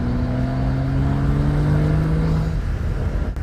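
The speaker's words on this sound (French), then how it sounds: "La soupape de décharge et le sifflement du turbo sont plus audibles" BMW 335i with turbo running, engine droning with a rising steady tone that fades out near the end, giving way to a brief breathy rush, with no voices present.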